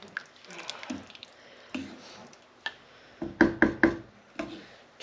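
A spoon stirs soup with porcini tortelloni in a pot, giving soft wet clinks and knocks, sparse at first and then a quick cluster of louder taps against the pot.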